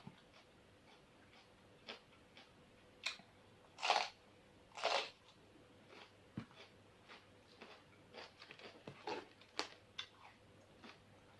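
Someone chews crunchy dried fish up close. Soft scattered ticks and crackles are broken by two louder crunching bites, over a quiet background.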